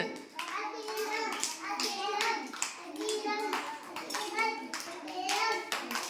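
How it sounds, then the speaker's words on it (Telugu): Children clapping their hands at an anganwadi preschool during a colouring game, with bursts of uneven claps that mix with young voices talking and calling out all through. "కొట్టండి క్లాప్స్."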